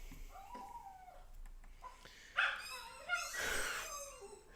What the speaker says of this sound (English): Fuck that dog, mate.